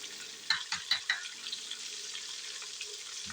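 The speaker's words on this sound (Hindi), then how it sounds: "इसकी बुनाई कर लेते हैं 4 से 5 मिनट तक" Meat and turnips for shaljam gosht sautéing in a pot, giving a steady soft sizzle with a few quick stirring clacks near the start.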